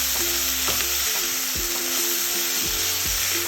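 Boiled jackfruit stirred into a hot curry pan in Andhra-style cooking, a steady close sizzle and fry hiss running throughout with soft scraping stirs, no talking.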